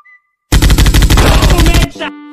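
Rapid automatic gunfire in the mobile battle royale game Free Fire, a loud burst of closely spaced shots lasting over a second after a brief quiet tone, ending with a short electronic game sound.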